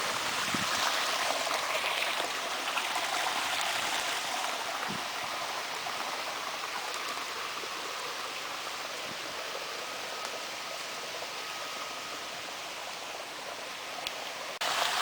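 Cooled, partly hot water discharged from a factory pours steadily into a river, a dense, even rushing hiss that runs unbroken throughout, close and fairly loud with no talk over it.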